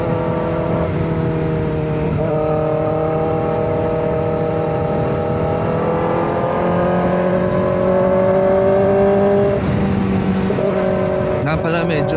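A Kawasaki ZX-4RR motorcycle on a night highway drones steadily at high revs, with rising and falling engine pitch, constant wind rush, and a brief shift near the end.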